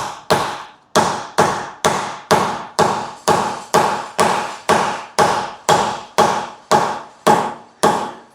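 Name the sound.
dead blow hammer tapping metal collar into axle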